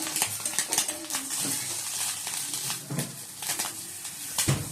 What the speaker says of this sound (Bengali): বন্ধুরা মাছের ডিমগুলো এবার ভেজে নিচ্ছি।